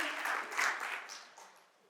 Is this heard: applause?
yes